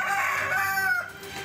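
Roosters crow loud and close at an illegal cockfighting arena in Panakukang, Makassar, South Sulawesi, with one long drawn-out call that fades near the end over a busy background.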